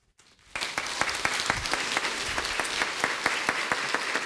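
Church congregation applauds after a baptism: a moment of near silence, then a fairly distant, steady round of clapping with sharp, regular claps that holds at an even level to the end.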